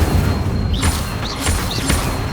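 Incendio fire spells cast in Hogwarts Legacy, a video game: three swooping whooshes with booming bursts, set over a steady rumbling game soundscape.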